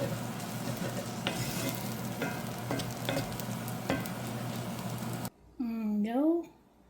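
Rice noodles made from rice flour stir-fried with chicken, prawns and egg, a steady close sizzle with scraping stirs through most of it, then cutting off abruptly as a voice speaks over the quieted pan.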